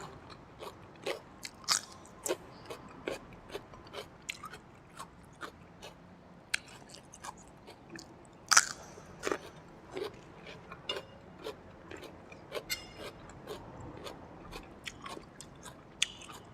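Crunchy bites and chewing of crispy pork basil stir-fry eaten with hot steamed rice, a quiet close series of irregular crisp crunches spaced through the clip with no talk.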